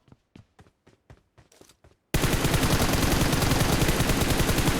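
Gunfire in the mobile battle-royale shooter PUBG Mobile: a few sharp, spaced single shots at first, then a sudden dense, loud burst of sustained automatic fire filling the rest, with no talk.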